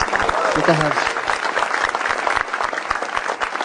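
Loud audience applause at a stand-up comedy show fills the whole stretch, dense steady clapping from a crowd, close and sustained.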